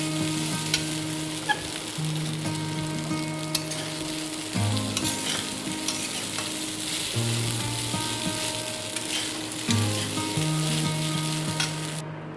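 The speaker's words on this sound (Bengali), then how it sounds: "এখন সব মিলিয়ে এটাকে ভালো করে মিলিয়ে নেবো আলুর সাথে।" Sabudana khichdi with potatoes being stirred and folded in a frying pan: a steady close sizzle runs throughout, with repeated scraping strokes of a spatula against the pan and no talking.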